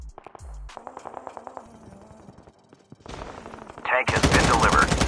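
Rapid bursts of automatic gunfire from the video game Call of Duty Mobile, a rattling string of shots followed by louder, denser firing at the end, close and prominent.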